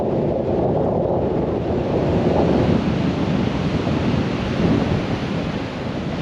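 Heavy surf breaks near Margate Pier, New Jersey, a loud, continuous roar of crashing waves buffeted by wind noise against the microphone, with no voices.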